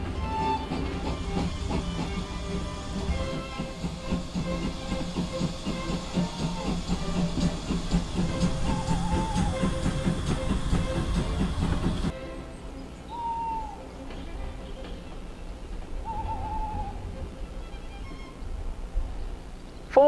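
The Great Western steam locomotive Raveningham Hall departs uphill toward Bridgnorth on a 1 in 145 climb: a steady, heavy rail rumble with rhythmic chugging and a few faint whistle-like hoots, dropping to a quieter, more distant drone partway through.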